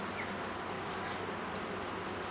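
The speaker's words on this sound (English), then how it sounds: "there's a large bee there, just on the corner of my hive tool" Honeybees drone steadily in an opened hive during a Norfolk beekeeping inspection, a dense, continuous mid-level buzz of many insects close by, with no talking.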